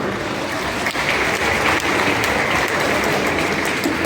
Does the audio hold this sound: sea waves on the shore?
no